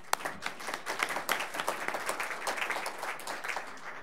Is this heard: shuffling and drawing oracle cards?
no